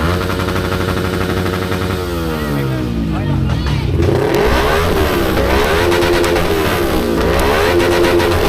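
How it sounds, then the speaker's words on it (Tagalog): Motorcycle engines rev hard during a noisy New Year's Eve celebration, pitch sweeping up and down in repeated throttle blips, loud and close with overlapping engines. "Subukan natin yung mga motor, no, para iwas overheat"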